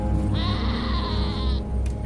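A goat gives one loud, wavering bleat lasting about a second as a woman catches it, heard close over a steady low background rumble.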